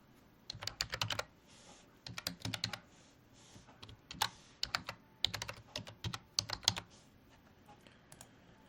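Someone types an email address on a computer keyboard, a close, quiet patter of key clicks in quick bursts separated by short pauses; no speech.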